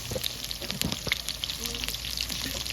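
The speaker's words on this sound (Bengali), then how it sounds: "তেল বেশি করে দিয়ে আলুগুলো ভাজতে হয়।" Salted potatoes fry in plenty of hot oil, crackling and popping in a dense, busy sizzle with sharp spitting bursts, close and moderately loud.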